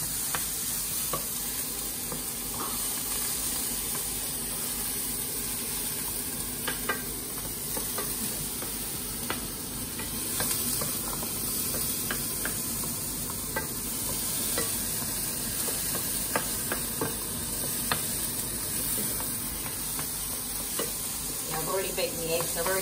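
Onion fries in a pan for a dairy-free carbonara, an even, continuous sizzle close by with light ticks and scrapes from stirring throughout and no talking.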